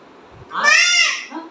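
A voice gives a single drawn-out, wavering bleat, imitating a goat, close and clear.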